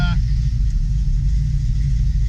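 A 1972 Chevy Nova SS V8 with Fitech fuel injection idles just after its first start on a new battery, a close, steady, deep rumble that runs on alone throughout.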